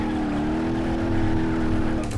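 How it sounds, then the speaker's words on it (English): A car engine runs in the racing game BeamNG.drive. It holds a steady, loud, buzzing drone at an even pitch without a break, with a faint rising whine at the very end. "Engine is still going."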